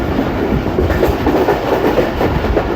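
The Pakistan Express passenger train runs along the rails on the way to Fort Rohtas, a loud, steady rumble with rhythmic clickety-clack from the wheels throughout.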